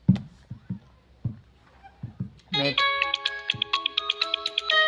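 A few scattered knocks and taps, then an electronic phone ringtone starts up and plays a bright repeating melody until the end.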